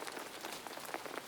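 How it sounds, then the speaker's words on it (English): Rain falls during a rainstorm as a soft, even patter of drops on surfaces, steady and fairly quiet throughout. "mesmerized by the soothing sights and sounds of the rain"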